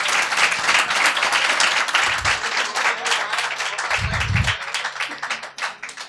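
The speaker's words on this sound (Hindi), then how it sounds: "जोरदार तालियां यार भाई के लिए" Enthusiastic audience applause at a mushaira poetry gathering, dense continuous clapping at close range that stays loud for about six seconds before thinning out at the end.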